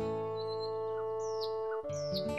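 Bright bird chirps and short whistled calls from a television drama scene, rising over a steady musical tone in the background, fairly faint and close.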